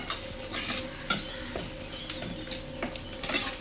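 Chilli mixture for egg thoran stirred in a pan: soft sizzling under repeated light scrapes and taps of a spoon against the pan, close and fairly quiet, no talk.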